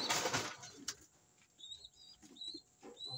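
A fancier's pigeon flaps its wings in a sharp burst close by, followed by quieter rustling and a few faint chirps in the background.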